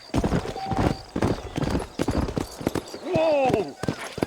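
A horse galloping in the Red Dead Redemption video game, rapid rhythmic hoof clip-clops at close range, with a brief whinny near the end and game voices mixed in.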